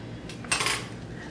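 A metal marshmallow skewer is drawn through liquid soap in a figure-8 pattern, making a short, close scraping swish that swells briefly then fades, with no voices.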